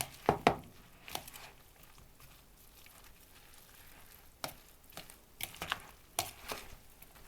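Onion salad dressed with pepper and lemon juice is stirred in a bowl, giving sparse, irregular clicks and scrapes up close, with a few sharper knocks over a quiet background.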